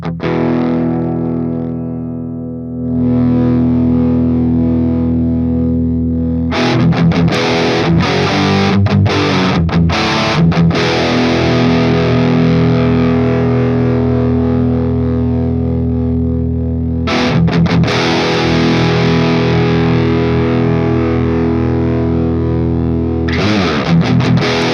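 Loud distorted electric guitar through the rhythm channel of a UAFX Anti pedal plays chugging rhythm chords and palm-muted riffs, with brief pauses where sustained chords ring out, no voices.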